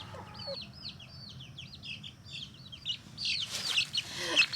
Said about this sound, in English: Come here, my little chickies.